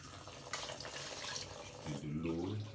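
Tap water running steadily into a sink for washing, a close continuous hiss and splash, with a voice speaking over it near the end.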